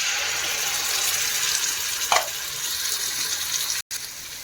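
Fried onions sizzle steadily in a pan as tomato puree goes in for a pasta sauce, a close, even hiss with one brief brighter splash partway through and no voices.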